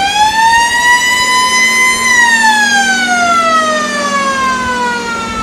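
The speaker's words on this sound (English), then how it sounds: "followed by an ambulance." A World War II-era ambulance in a Memorial Day parade sounds a steady, loud wailing siren that holds its pitch and then slowly falls, close and continuous.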